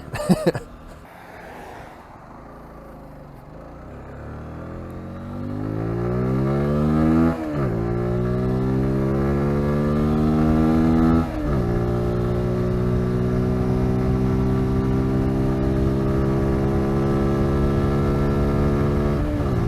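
Zontes 125 GK motorcycle ridden over forest terrain, its small engine droning steadily and close, with sharp rising revs as the throttle opens and two quick gear-shift dips along the way.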